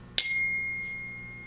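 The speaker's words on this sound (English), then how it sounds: "focus on the sound of the chime" Meditation chime struck once, a bright metallic ring with a sharp attack that rings on clearly and decays slowly over more than a second, heard alone in a quiet room.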